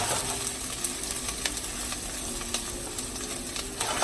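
Garlic sautéing in a hot pan, a steady broadband sizzle with scattered crackles and stirring clicks, close and continuous for several seconds without talk.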